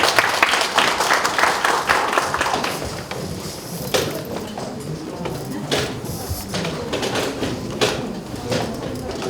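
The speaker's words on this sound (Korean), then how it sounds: "오늘 수고해주신 많은 분들, 특히 우리 신길교회 스태프 여러분들에게 감사의 박수하고 마무리하도록 하겠습니다." Applause from a church seminar audience thanking the staff, dense clapping loud at first, then thinning and continuing more sparsely with scattered claps and faint voices.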